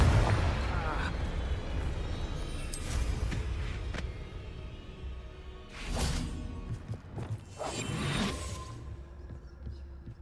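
A Confringo fire-blast spell in Hogwarts Legacy, heard as whooshing bursts and booming explosions over a steady game background, with several swells of blast noise across the stretch.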